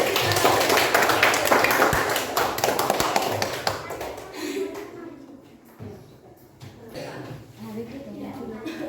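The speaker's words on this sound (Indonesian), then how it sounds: "Beri tepuk tangan untuk temannya ya." Dense crackling applause in a classroom fills the first few seconds, then fades into softer scattered sounds and a murmur of voices.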